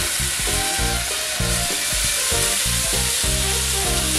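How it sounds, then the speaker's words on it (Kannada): Fish pieces frying in oil on a hot tawa, a loud steady sizzle with crackling spatter filling the whole stretch, close up and with no voices. "ಈಗ ಈ ಫಿಶ್ ಇದೆಯಲ್ಲ, ಇದನ್ನ ತಗೊಂಡು ಒಂದೊಂದೇ ಹಾಕೋದು."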